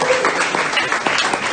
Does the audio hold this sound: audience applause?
yes